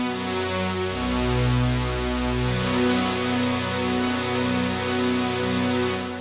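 Synthesizer strings patch shaped with an LFO, recreating an intro and theme sound: sustained, loud layered chords with slow shifting bass notes, continuous for about six seconds without speech.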